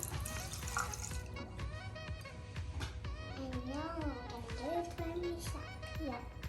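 Running water splashes steadily to wet an icing tattoo, heard close and continuous while a child and an adult talk over it.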